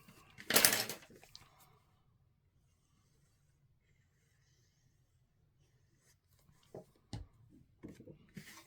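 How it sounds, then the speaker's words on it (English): A scored half-inch paper flap is folded and burnished with one brisk, close rubbing stroke, then near silence, followed by scattered light rustles and taps. "Fold and burnish where we scored that 1/2 inch flap."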